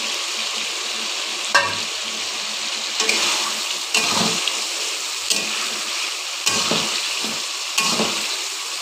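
Potatoes fry and are stirred in a pan of rendered duck fat for a Chinese duck curry, a steady loud sizzle broken every second or so by scraping stirs, with no talking.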